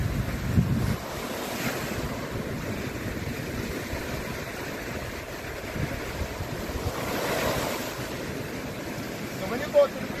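Surf breaking on a beach with steady wind buffeting the microphone, a continuous wash of waves swelling louder around the middle and end, heard close and alone.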